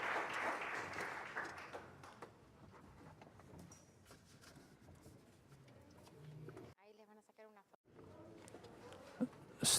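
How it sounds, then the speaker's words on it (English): Audience at a regional methane summit in Latin America and the Caribbean applauds panelists: dense, steady clapping from a crowd for about six seconds that gradually thins out, followed by a brief spoken voice. "I would ask a round of applause for their reflections"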